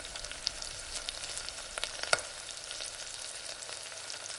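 Fennel seeds and a piece of cinnamon fry in hot oil in a pan, giving a steady, soft sizzle with a few faint pops and spatters, no voices.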